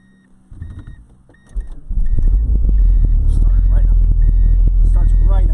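A 1992 Plymouth Laser AWD engine cranks briefly and catches, then settles into a loud, steady idle close by, with a few clicks and faint chimes beforehand.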